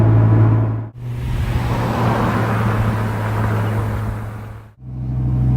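A supercharged Dodge Viper GTS engine roars loudly up through the gears, revving hard with brief dips between shifts.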